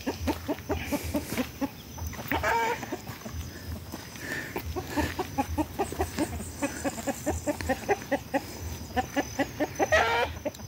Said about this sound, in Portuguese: Aqui você escuta as galinhas cantar, os pássaros com suas diferentes notas musicais.